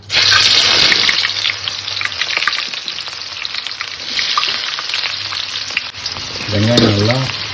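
Onions frying in hot oil for chicken gravy, a loud continuous close sizzle with occasional stirring clatter and a brief stir of the pan near the end, no talking.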